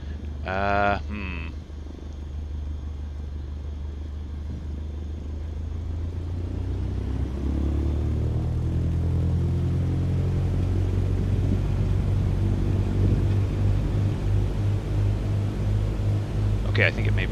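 Cessna taxiing in Microsoft Flight Simulator 2020, a steady low engine rumble that swells and thickens over time, with a brief burst of higher tones at the start and near the end.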